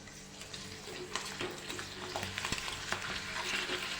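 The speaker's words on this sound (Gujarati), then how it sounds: "બરાબર તેલ ગરમ થઈ જાય પછી ભૂંગળા લેવાના એટલે તરત જ ભૂંગળા તળાઈ જાય છે" Bhungla, crisp fried papad snacks, sizzle in hot oil with a steady bubbling hiss. Soft crackles and light stirring clatter rise now and then, fairly quiet and close.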